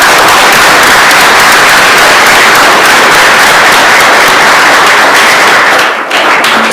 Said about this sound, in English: That needs a clap.